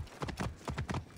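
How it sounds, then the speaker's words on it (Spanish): Quick clip-clop of horse hooves galloping in Assassin's Creed Origins, a short run of rhythmic, fairly faint hoofbeats heard alone. "Ah, mira, tenemos caballo."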